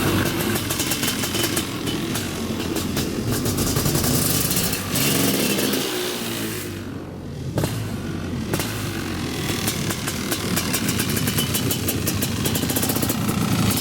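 A CR500 dirt bike engine warms up with a loud, continuous two-stroke drone, rising and falling with throttle blips and dipping briefly partway through.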